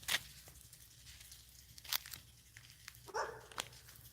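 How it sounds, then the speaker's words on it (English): Faint crinkly rustling with scattered crisp crackles and snaps, like movement through dry leaves, fairly quiet and intermittent. "I can hear it rustling in the leaves."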